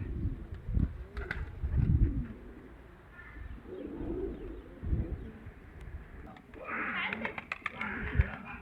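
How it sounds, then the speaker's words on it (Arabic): Pigeons coo in low, rounded phrases several times, mixed with outdoor background noise and a brief burst of wing flutter or rustle near the end. "قلت لكم الحمام انا عندي عاد تيطير"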